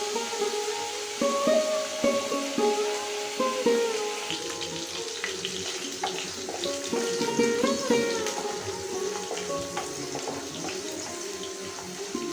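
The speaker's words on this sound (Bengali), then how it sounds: "এই যে মাছের তেল দিয়ে দিলাম চুলোতে, পাঙ্গাস মাছের তেল।" Pangas fish oil frying in a pan on a stove, a close, steady crackle and sizzle with scattered pops and clinks throughout, no talking.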